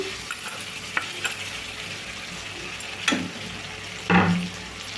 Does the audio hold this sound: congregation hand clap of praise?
no